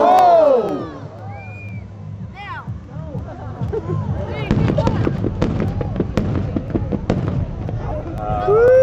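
A wall of fire pyrotechnic blast at a Marine Corps air show, with booming explosions and crackling bursts rolling over a large cheering crowd, loud and sustained, while a voice on the public address talks through it.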